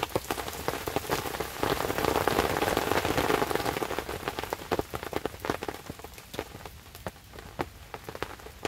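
Steady rain patters on a bivouac shelter, a dense close crackle of drops on fabric with scattered louder hits, swelling early and then easing to sparser tapping.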